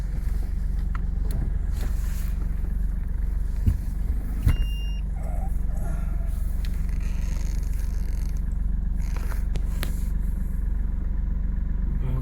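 Car engine idling and rumbling steadily on a jungle road, a constant low drone with occasional brief knocks and clicks, close and loud throughout.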